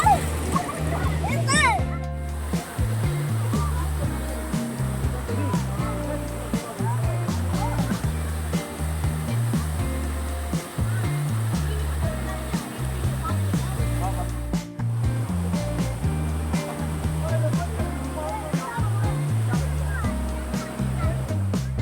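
Family members swimming and splashing in the pool at Kanthanpara waterfall in Wayanad: water churning and splashing throughout, with a voice and other people talking over it.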